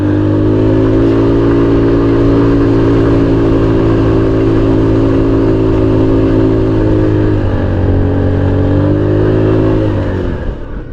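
An FKM Ranger 150 motorcycle engine held at full throttle climbing a steep uphill road, a loud, steady droning roar that dips slightly in pitch partway through before easing off at the end.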